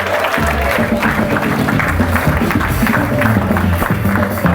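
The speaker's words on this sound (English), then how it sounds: "Give it up for these guys, big round of applause." A live audience at a February 2014 show in Orange Hall applauds in a dense, steady wash of clapping that fills the room for several seconds, with a faint murmur of crowd voices mixed underneath.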